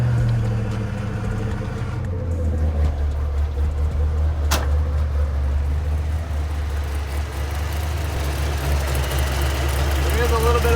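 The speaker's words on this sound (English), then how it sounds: "Let's just see if the car runs better." A Ford Mustang Fox Body engine idles steadily with a deep, low rumble throughout, loud and close, with a brief sharp click partway through.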